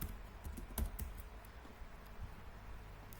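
Router configuration commands being typed on a computer keyboard, a quiet run of irregular key clicks with one louder keystroke near the start. The typing is faint and heard alone.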